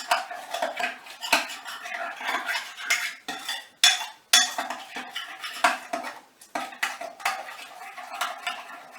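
A spoon scrapes and clinks steadily against a metal pot on the range, with a busy, continuous rhythm of stirring strokes over several seconds and no voices.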